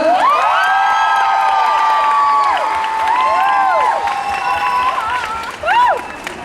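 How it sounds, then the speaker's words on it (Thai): A crowd at a Family Mart store event applauds and cheers loudly, with high whoops and shouted voices rising and falling over the clapping, ending in a brief louder burst. "ขอเสียงปรบมือดังๆหน่อยครับ"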